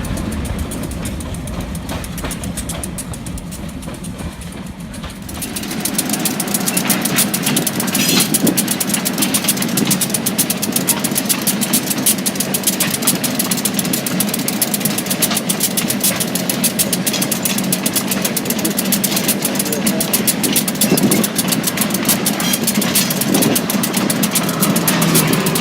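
Great Lakes Central diesel locomotives 395 and 396 rumble past at close range at a River Road crossing in Traverse City, Michigan, a steady loud engine drone with clattering wheels, starting quieter before the locomotives arrive.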